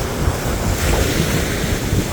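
Brief stretch of blustery wind and breaking waves on the shore of Lake Peipus, the microphone rumbling in the gusts, no talking.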